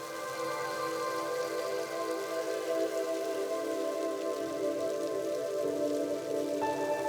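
Steady, dense rain pattering on a surface where water buffaloes stand in a sanctuary, a continuous close hiss without pauses or voices.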